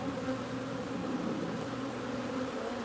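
Honey bees swarm around an opened, crowded beehive, producing a dense, continuous close buzzing drone with no voices.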